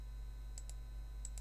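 A few soft, quick keystroke clicks, two close pairs, on a computer keyboard, faint over a steady low electrical hum with no talking.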